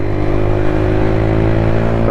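A Lexmoto Tempest motorcycle engine revs hard and steadily, loud and close, with a dense droning buzz that holds through the whole moment and no voices over it.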